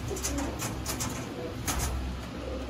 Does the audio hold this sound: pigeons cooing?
yes